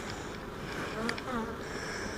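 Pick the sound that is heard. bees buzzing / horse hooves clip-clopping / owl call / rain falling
bees buzzing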